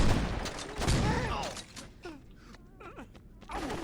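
Shotgun fire in the Saints Row video game booms out in a burst of heavy blasts, followed by creaks, groans and scattered mechanical clatter. A couple of sharper shots come later over a lower background.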